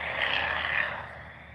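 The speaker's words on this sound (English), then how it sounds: "Wait for that truck to go by." A broad, rushing engine roar swells and fades as a truck passes by, fairly loud, with no voices.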